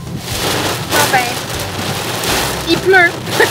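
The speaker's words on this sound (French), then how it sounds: "il pleut" Steady rain falls in Chicago, a dense broadband patter running throughout at a fairly loud level, with short bird-like chirps and faint voices now and then over it.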